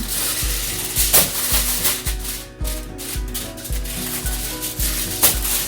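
Pre-made dough is rolled out on a pan, giving a rhythmic series of rubbing, scraping strokes with regular low thumps, close and fairly loud, with no talking.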